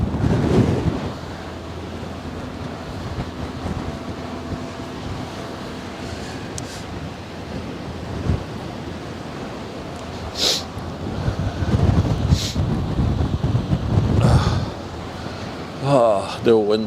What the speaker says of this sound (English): the wind is battering me though